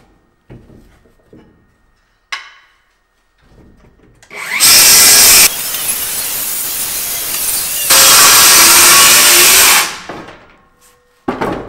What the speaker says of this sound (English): So I'm going to go ahead and keep cutting.